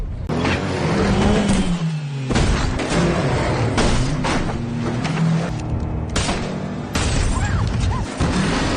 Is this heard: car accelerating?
yes